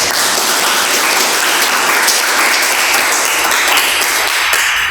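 Audience applause fills a room, steady dense clapping from many hands held at a loud level throughout and fading at the very end, with no talk over it.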